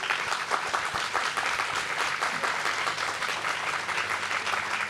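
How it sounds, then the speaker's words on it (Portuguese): An audience applauds a guest, a woman celebrating her 75th birthday, at a Brazilian podcast gathering, with steady, fairly soft clapping that continues throughout and has no talking over it. "Isso, palmas para ela."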